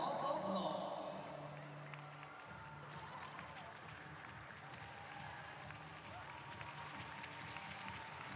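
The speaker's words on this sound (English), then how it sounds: "Let's give them a round of applause." Applause comes from a gymnastics arena crowd for the women's uneven bars medalists. A brief burst of clapping fades into a low crowd murmur, with a voice speaking over it at first.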